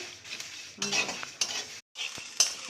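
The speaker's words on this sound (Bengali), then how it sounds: "বেশি ভাজতে হবে না, একটু হালকা হালকা ভাজতে হবে" Spices are lightly fried in a pan for mango pickle. Short bursts of utensil scraping and stirring come and go over a faint sizzle, heard close, with a brief silent gap.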